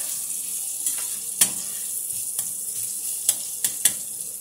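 Bacon sizzles steadily in a pan as it cooks for an apple butternut squash hash, with a constant frying hiss and a few sharp pops and crackles scattered across the sound.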